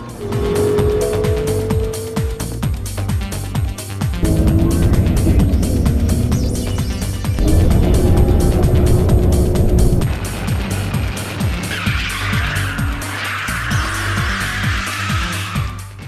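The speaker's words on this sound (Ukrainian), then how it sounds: "Сучасні автомобілі розвивають надзвичайно шалені швидкості." Fast cars racing along a road, engines roaring loud and continuous for the full stretch, with tires squealing and skidding in sharp bursts toward the end over music-like layered noise.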